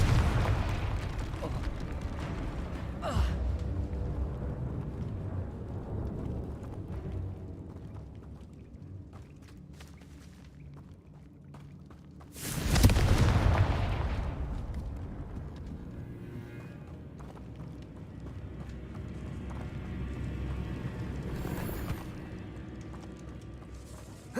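A Confringo explosive spell blast in Hogwarts Legacy bursts out as one loud, broad boom midway through, followed by a decaying rumble, with quieter game ambience and smaller thuds before and after.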